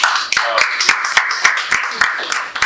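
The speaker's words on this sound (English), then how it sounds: "we should also give a round of applause to Bernie for organizing" Applause at a fashion law event, a sparse few hands clapping in a steady rhythm, each clap distinct and close, with talk mixed in.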